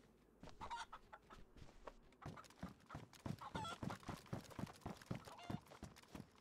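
A chicken in the survival video game DayZ clucks repeatedly in quick, irregular bursts, faint and close, forming a busy run of pecking cackles.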